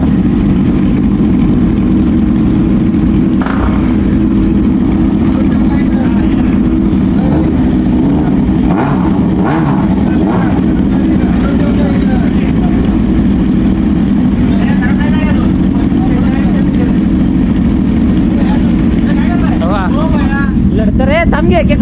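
A 900 motorcycle engine runs with a loud, steady, low rumble throughout, while people talk over it.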